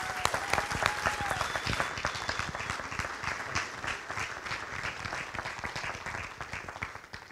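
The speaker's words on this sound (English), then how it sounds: "I just want you to give a great round of applause for Dave and Diane and all the work they do" A church congregation at a Sunday missions service gives a round of applause, sustained mid-distance clapping with distinct individual claps throughout.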